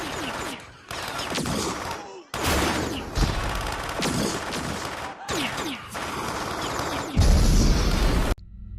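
The Phasertron gun in Far Cry 3 Blood Dragon fires bullets in loud, rapid bursts, separated by brief silent gaps, with booming impacts and some voice mixed in.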